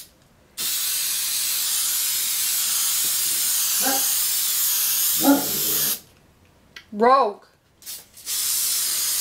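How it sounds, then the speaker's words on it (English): An aerosol spray can mists adhesive onto cardboard in a long, steady hiss that stops, followed by brief clicks and a short spoken word, then a second spray burst starts. "I'm just going to spray the middle of this."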